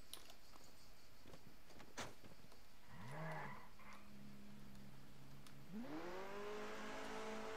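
Car engine in the Just Cause 2 video game revving up twice in rising sweeps, the second building into a sustained high whine, with a sharp thump and clatter early on.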